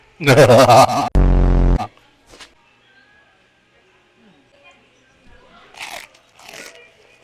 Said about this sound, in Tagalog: Unang kagat, breadings lahat.